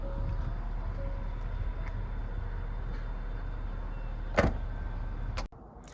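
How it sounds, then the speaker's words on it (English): Locking a 2020 Ford Explorer Platinum with the 3L V6 brings a steady low mechanical whir as the mirrors fold in, one sharp click partway through, and a clunk as the motors stop near the end. "when you lock your vehicle like that, the mirrors fold in"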